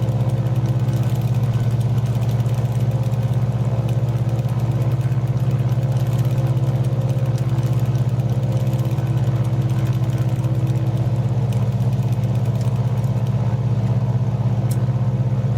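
An F4F Wildcat aircraft engine just after takeoff in a flight simulator, a loud, steady, unbroken droning hum with a strong low rumble and no change throughout.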